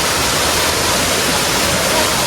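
A steady, dense roar of the Mae Kampong waterfall in Chiang Mai, Thailand, fills the scene continuously, loud and close, with no other sounds standing out.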